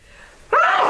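A single sharp sneeze bursts out loudly after a quiet lead-in, a sudden breathy explosion that lingers briefly, from a woman.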